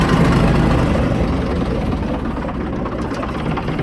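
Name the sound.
AEC Militant 6x6 artillery tractor engine idling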